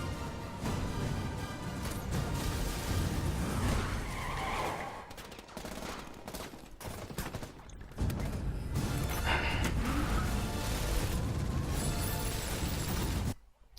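Tires skid loudly in a car chase scene from the No Time To Die trailer, mixed with bursts of machine-gun fire and engine roar, continuous and dense, cutting off abruptly at the end.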